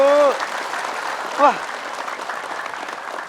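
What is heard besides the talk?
audience applause in a TV studio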